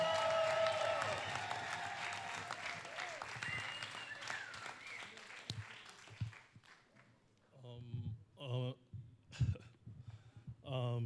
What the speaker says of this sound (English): This is that moment of profound clap loud, cheer, cheer, cheer.